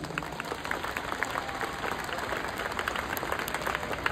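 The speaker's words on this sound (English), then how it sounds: "Let's give them a big round of applause." Audience applause at an elementary school graduation ceremony, a steady, dense wash of many hands clapping in a large space, holding evenly for about four seconds.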